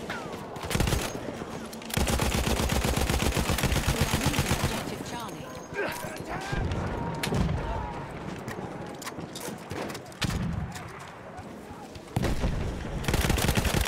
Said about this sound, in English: Where's this guy shooting from?